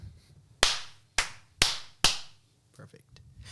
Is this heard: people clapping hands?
yes